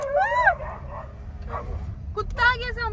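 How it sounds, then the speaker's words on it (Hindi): A dog gives yelping, whining barks nearby, one burst at the start and another near the end, with people's voices mixed in around them. "कुत्ता आ गया सामने"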